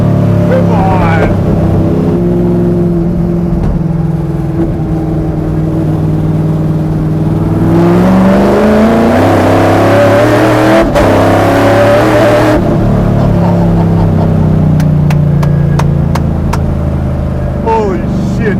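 A Buick Grand National engine roars close and loud under hard acceleration, revs climbing through gear changes with a sharp shift break midway, while people talk over the engine.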